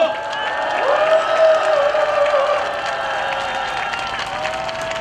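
A large outdoor crowd at a political rally in Yeouido, Seoul applauds and cheers, a sustained wash of clapping and voices with a whistle-like tone rising over it.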